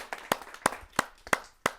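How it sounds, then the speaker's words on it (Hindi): Hands clap in a slow, even rhythm, five sharp, separate claps spaced evenly apart, welcoming a poet on stage at a Hindi poetry and comedy gathering; fairly quiet with no talk. "आइए जोरदार तालियों से उनका स्वागत करें।"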